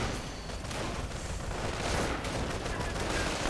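Crossfire in a WWII strategy video game with Fallschirmjäger and Panzer units, a dense, continuous crackle of overlapping small-arms and machine-gun fire that swells and fades over a few seconds.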